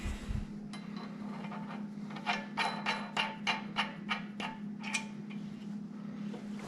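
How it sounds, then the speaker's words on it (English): Big threaded bolt being turned while assembling a 2-ton Strongway engine lift, giving a run of regular ratcheting or scraping clicks, about eight evenly spaced strokes over a steady low hum, close and fairly quiet. "This is a big threaded bolt, so it's going to squeeze more in there."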